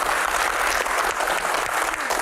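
An audience at a Q&A session bursts into loud, dense applause, a continuous wash of many hands clapping close by for a couple of seconds.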